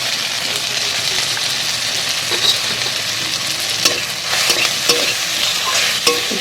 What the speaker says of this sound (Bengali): ভালো করে লাল লাল করে একটু ভেজে নেব